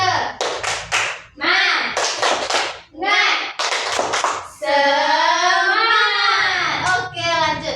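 A classroom group performs rhythmic 'tepuk semangat' clapping, sharp bursts of hand claps in quick patterned sets, then voices chant together in unison.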